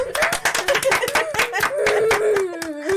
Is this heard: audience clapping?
yes